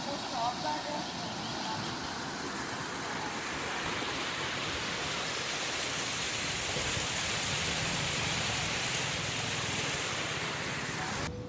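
Canal water pours steadily through the Ravi siphon on the BRB canal, a continuous close broadband rush with no pauses, holding an even level throughout.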